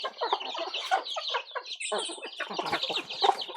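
Dense chorus of chickens clucking and squawking continuously, several birds close by, with overlapping calls throughout.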